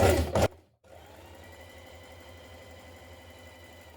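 A sewing machine stitches the short edges of a sweatshirt neckband, its motor whirring at a steady hum after a brief burst of handling noise, moderately quiet and close.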